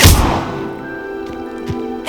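A fire spell in Hogwarts Legacy strikes a magical pyre with a sharp, loud burst and thud, then fades into a steady ringing, humming tail with a few faint later flickers.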